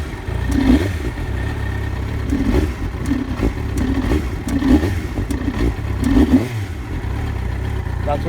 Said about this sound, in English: Okay, so when I twist the throttle fast,